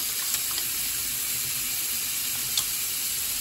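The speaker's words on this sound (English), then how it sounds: "I'm gonna put some on and wash my hands." Hands being washed with Dial antibacterial spring water liquid hand soap under a running tap, a steady broadband hiss of flowing water with faint rubbing and a few small splashes, close and continuous with no talking.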